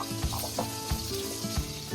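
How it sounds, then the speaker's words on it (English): Leftover chicken fat sizzles in a still-hot pan, a continuous close frying hiss broken by a few soft scraping stirs. "it's really hot still, so it's going to keep sizzling"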